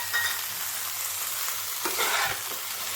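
Fried prawns are stirred into a sizzling cauliflower and potato curry, a continuous close frying hiss broken by a couple of scraping stirs near the end.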